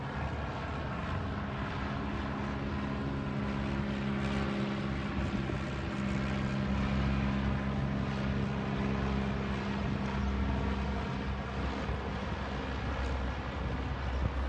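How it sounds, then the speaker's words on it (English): A small plane towing a banner over Los Angeles gives off a steady, distant engine drone. The rumble blends with broad wind-like noise and stays even the whole time, with no voices. "Someone also managed to get a plane to fly around LA with a banner"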